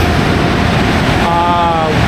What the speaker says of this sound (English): So what that's going to do is really blast the bottom of your car.